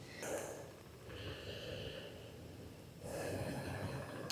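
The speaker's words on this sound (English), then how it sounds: "And take a few deep breaths here." Deep, slow breaths during an outdoor yoga stretch, a long airy inhale and exhale heard close and soft, then another breath beginning.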